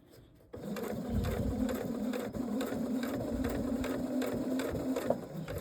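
A sewing machine stitches a round jelly roll rug, starting after a brief quiet moment and running as a steady, close, rhythmic mechanical whir with repeating needle clatter.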